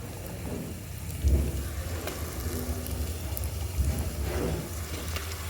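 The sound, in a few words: onions, chillies and ginger-garlic paste frying in a pan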